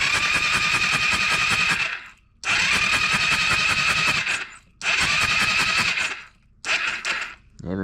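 A Beta KTM motorcycle engine with an automatic decompressor fault cranks on its electric starter in three long, loud bursts separated by short pauses, a fourth shorter burst at the end, never catching.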